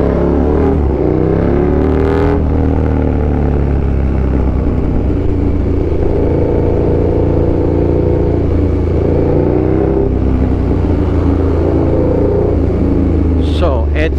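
A motorcycle rides through heavy Sunday traffic on EDSA, its engine droning loudly and continuously up close with rising and falling revs, a voice speaking briefly over the road noise.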